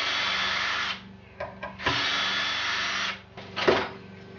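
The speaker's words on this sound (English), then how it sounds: "Remove the screws." A cordless power driver backs screws out of a turkey beard mount base, with two long steady whirring runs separated by short clicks and handling knocks, close and fairly loud.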